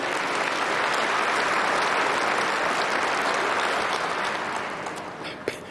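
Dense, steady applause from a large audience during a political state address, sustained clapping that thins slightly near the end.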